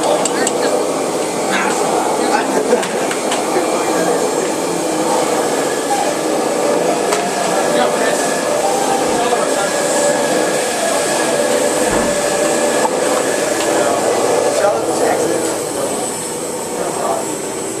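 Steady, loud broadband whooshing roar of a shop vacuum running continuously in a woodworking shop with a table saw, with a faint voice briefly audible underneath.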